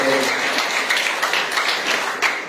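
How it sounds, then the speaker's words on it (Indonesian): Church congregation at a Sunday anniversary service applauds briefly, a dense burst of many hands clapping over a short moment, with some voices mixed in. "Tepuk tangan bagi Allah kita."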